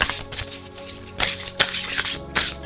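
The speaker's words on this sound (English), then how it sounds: "Let's shuffle." Oracle cards from a Priestess of Light deck are shuffled close up, a steady papery riffle and slide with several louder bursts where the cards snap together, with no voices over it.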